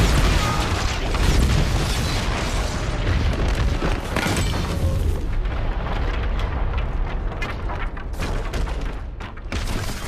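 A huge explosion sound effect from a Helm's Deep wargame, with the culvert blown apart in a long, rumbling roar of booming blasts and crackling debris that slowly thins out over ten seconds.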